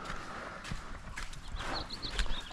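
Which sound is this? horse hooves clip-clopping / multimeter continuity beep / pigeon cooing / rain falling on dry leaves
horse hooves clip-clopping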